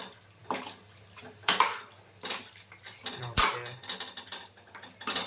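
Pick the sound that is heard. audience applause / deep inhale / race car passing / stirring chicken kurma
stirring chicken kurma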